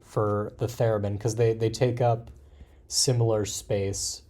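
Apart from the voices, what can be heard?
None of the usual background noises is heard.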